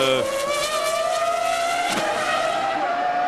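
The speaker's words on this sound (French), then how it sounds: "l'une des deux Ferrari qui est en piste" Ferrari Formula 1 car from 2000 circling the track during qualifying at the Canadian Grand Prix, its high engine whine holding steady and rising slightly in pitch as it passes, heard loud and close for a few seconds.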